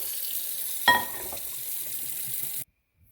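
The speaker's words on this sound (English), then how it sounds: "let's go ahead and fill our pot with cold water, about 3/4 of the way full" Cold tap water runs steadily into a cooking pot, a continuous close hiss with a brief splashy burst early on, then cuts off abruptly near the end.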